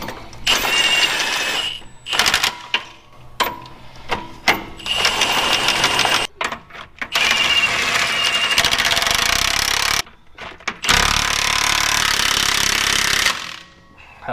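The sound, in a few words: tightening truck leaf spring U-bolts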